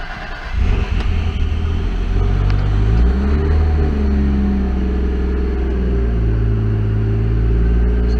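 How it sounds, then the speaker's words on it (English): Toyota Supra tuned to 590 whp on E85 with a stock automatic, 128,409 km, cold-starting: a deep, steady engine rumble at a high idle that holds loud and even close by. "So I'll do a little cold start here."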